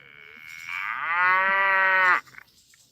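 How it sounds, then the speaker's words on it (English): A Moocall calving alert device plays a recorded cow moo, one long, loud, rising bellow lasting about two seconds before cutting off abruptly. "Oh, the moo call's going off."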